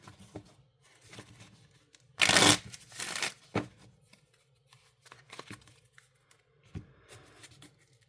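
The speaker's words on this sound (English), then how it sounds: "Let's get this shuffled up" A Magic: The Gathering deck is shuffled by hand close up: soft scattered card taps and slides, then a loud riffling burst of about a second followed by a second shorter riffle, and more light card clicks after.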